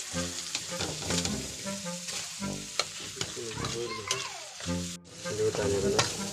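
Two eggs cracked into a hot pan of snail sisig, a steady crackling sizzle with scraping stirs and clinks near the mic, cut through by a short louder hiss near the end.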